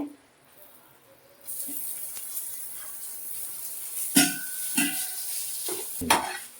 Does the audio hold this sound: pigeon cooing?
no